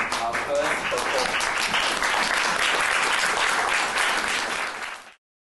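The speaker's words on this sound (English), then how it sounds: "start the concert with a round of applause" Sustained applause from a recital audience fills the hall for about five seconds at steady loudness, with a few voices mixed in before it stops abruptly.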